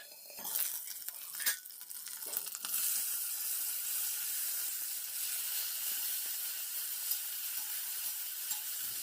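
Spices crackle and sizzle in hot oil as a tadka for dal is tempered, a steady bright hiss with a few clinks and stirring sounds at the start, fairly quiet and close.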